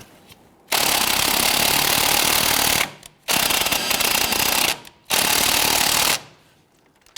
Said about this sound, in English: On the top here, we have a 17mm nut, and it goes through to our sway bar end link. Let's go ahead and try and loosen that.